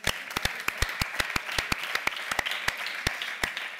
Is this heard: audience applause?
yes